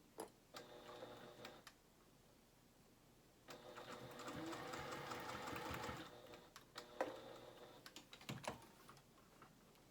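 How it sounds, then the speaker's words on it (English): A sewing machine stitches the seam of a dress in quick rattling bursts, running in short spurts and then one longer steady stretch, heard close with no talk. "And then sew down the other side."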